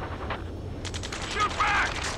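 Gunfire from the video game Ace Combat 7 crackles in a steady run of rapid bursts that starts partway through, with voices shouting over the shooting.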